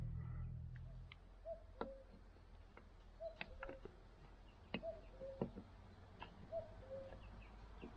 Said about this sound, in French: Il y a le coucou qui chante.